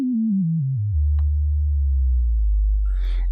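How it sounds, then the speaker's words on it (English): A single oscillator of the Berna3 software synthesizer plays a pure sine tone that steps downward in pitch, then holds a steady low hum, with a few faint clicks near the end. "we can hear the sound of the oscillator"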